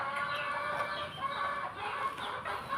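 Backyard stag rooster that cannot digest its feed, giving steady soft clucking and low fowl murmurs throughout, close and continuous with no talking.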